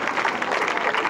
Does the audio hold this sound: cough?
no